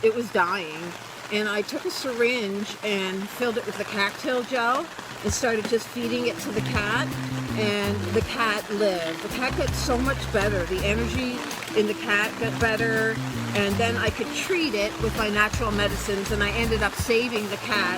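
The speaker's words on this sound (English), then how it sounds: "sorry about the rain, not sorry about the rain, love it." Rain falling outdoors, a steady hiss of drops on surfaces running beneath someone talking continuously.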